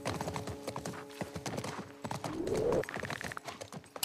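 Horse hooves clip-clop in a steady, close rhythm while riding through a university campus in The Last of Us Part I, with a brief bird-like call partway through and no talking.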